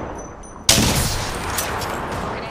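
Sudden burst of gunfire from the battle royale shooter Apex Legends, breaking in loud and close after a quiet moment and continuing as a dense, sustained volley.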